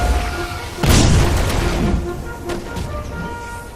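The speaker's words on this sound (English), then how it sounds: "See if I can get a really big blast combo." Explosion blast in the war video game Toy Soldiers, a loud booming burst with a broad rumbling decay and a couple of smaller follow-up hits over a steady game backdrop.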